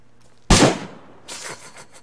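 A six-shooter revolver fired in the video game DayZ: one loud sharp bang with a ringing tail, then a second fainter shot about three-quarters of a second later.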